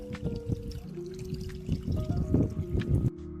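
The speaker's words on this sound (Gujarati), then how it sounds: "પાણી ભરવાનું ચાલુ થઈ ગયું." Water pours into a container as it fills, a close splashing and gurgling stream with uneven bursts over a faint tonal hum, stopping abruptly near the end.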